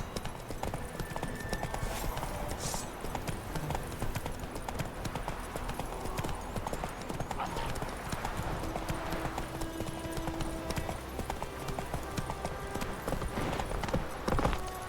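Roach, a horse in The Witcher 3 video game, gallops with steady, rapid clip-clopping hooves that continue evenly throughout, fairly quiet, with game ambience underneath.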